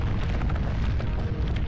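A castle collapsing amid explosions in the video game Morrowind, heard as a dense, loud, continuous rumbling roar with layered bursts throughout a brief stretch.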